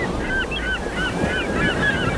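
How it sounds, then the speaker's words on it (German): Seagulls screech over the sea. Several short, high calls repeat at a moderate distance against a steady wash of surf and wind, with no voices. "das Kreischen der Möwen über dir"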